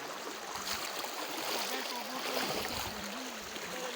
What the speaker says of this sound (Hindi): तो यह है दरिया सवात।